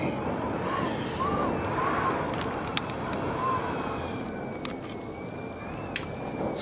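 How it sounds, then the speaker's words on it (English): Strong blustery wind outdoors on a November morning rushes in a continuous broad roar with gusty swells, joined by faint distant siren-like wails and occasional sharp knocks. "That should be enough to give a taster of what it's like out there this morning. It's pretty blustery."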